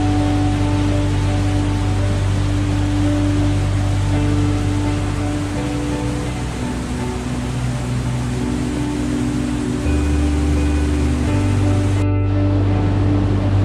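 A small waterfall in Vagamon pours over rocks, a steady, full rushing of water that holds at an even level for the whole stretch, close and loud, with no voices.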